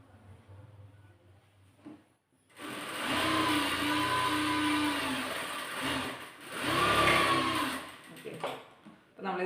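Sewing machine stitching along a fabric edge for a slit, two loud whirring bursts of running after a quieter start, with soft handling noises and a brief pause between runs.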